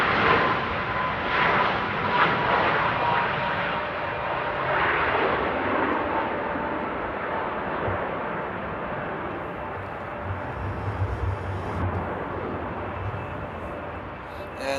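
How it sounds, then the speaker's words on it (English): A Ryanair Boeing 737 MAX 200 takes off at Amsterdam Airport, its engines a loud, sustained roar with a rising whine that holds steady and slowly fades over the whole stretch. "I mean the 737 Max 200 here by Ryanair."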